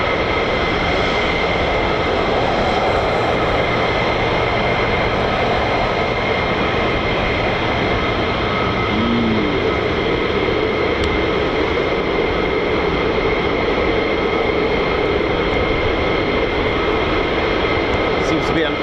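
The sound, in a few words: F-35 fighter jets taxiing at RAF Lakenheath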